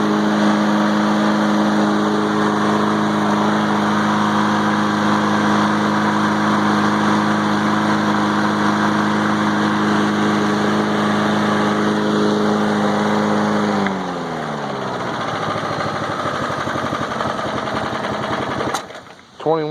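A 1995 Toro Super Recycler push mower with a 21-inch deck, its engine running loud and steady, then dropping in pitch and nearly stalling, with a brief clatter at the end.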